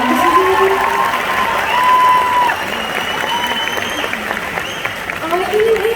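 Audience applause at a concert as a singer introduces her string ensemble and a violinist-keyboardist, steady clapping and crowd noise filling the whole stretch at a fairly loud level, with stage talk over the top.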